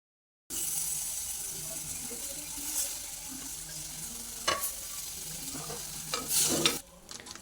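Grapes and salt stirred into a boiling green grape pickle in a pan, giving a steady close bubbling sizzle with scraping from the spoon and a few clinks. No voices.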